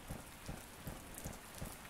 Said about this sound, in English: It's a rainy, dreary day anyways.